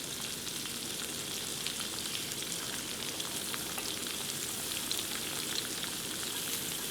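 Thinly sliced onion fries with ginger and garlic in oil, giving a steady, dense crackling sizzle that holds even throughout, moderately loud and close, with no talking.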